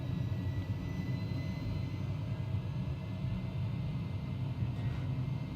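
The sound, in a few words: Airbus A300 jet engines spooling up, video game X-Plane 11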